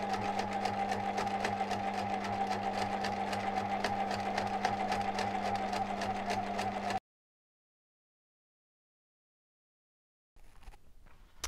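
Sewing machine stitching the curved brim seam of a fabric bucket hat, a steady close rapid hum with fast needle rhythm running continuously for about seven seconds, then stopping into silence before a faint handling noise.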